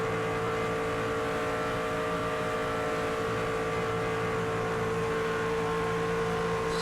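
A NASCAR 25 race car engine holds a steady, loud, droning note at full throttle, an unbroken high-revving roar with no talk over it.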